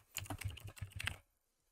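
Quick burst of keystrokes on a computer keyboard, about a dozen close, crisp taps in just over a second, then silence.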